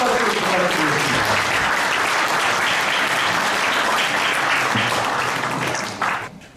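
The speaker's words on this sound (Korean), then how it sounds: "다음에 한박수 부탁드리겠습니다." At a Buddhist forum gathering, an audience applauds during a donation presentation, dense, loud sustained clapping from many people that fades out just before the end.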